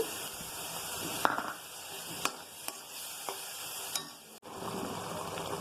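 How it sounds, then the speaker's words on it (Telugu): Tomato paste goes into a frying chickpea curry in a pan, a steady sizzle with several sharp spoon taps and scrapes as it is stirred in. "కొంచెం టమోటా పేస్ట్ వేస్తున్నాం"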